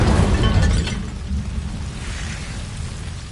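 A fiery burst from the Incendio spell in Hogwarts Legacy, a loud whooshing blast at the start that rumbles on and fades into a lower crackling roar.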